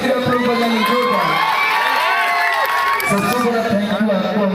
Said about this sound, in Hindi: एक बार जोरदार ताली चालू रखो और एकदम से जोरदार ताली